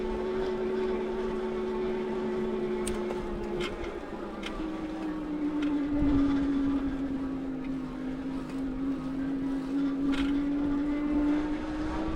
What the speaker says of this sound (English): I'm going to let you listen to the motor so you can hear it.